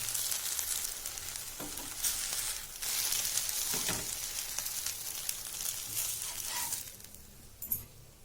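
Jowar dhirde flatbread fries in oil on a pan with jaggery, giving a loud, steady bright sizzle and a few soft scrapes and taps. The hiss thins out toward the end.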